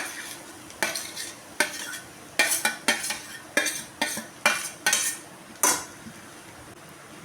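A spoon stirs mashed potato masala for aloo paratha in a pan, producing a dozen or so sharp scraping clinks in an uneven rhythm, close and fairly loud over a faint background.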